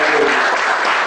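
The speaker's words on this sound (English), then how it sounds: "Members, a big applause to the C.A." A brief burst of steady audience applause at a professional seminar on GST updates, honoring a chartered accountant speaker. The clapping is loud and dense throughout the short moment.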